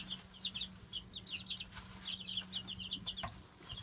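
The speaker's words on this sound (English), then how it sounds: "Oh, look, it's chickens!" Chickens clucking in quick, chattering bursts, several close birds over a faint steady hum in a quiet coop.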